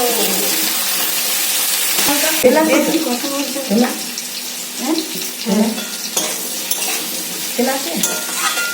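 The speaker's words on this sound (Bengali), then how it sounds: "এবার আমি এঁচড়টা দিয়ে দেবো।" Young jackfruit pieces tipped into hot oil and stirred, a broad sizzle with repeated scraping and clattering of a utensil against the pan, close up, with faint voices now and then.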